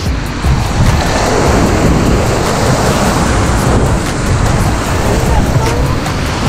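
Rushing whitewater roars steadily around a tandem canoe on a whitewater center rapid, a loud, broadband wash filling the scene throughout, with paddlers' voices calling out faintly beneath the water noise.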